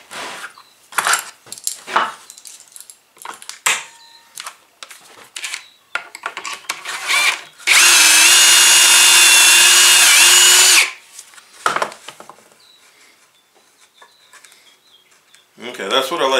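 Kreg micro pocket hole jig step bit drilling into wood, one loud high whining burst of about three seconds, with quieter handling clatter and knocks before and after.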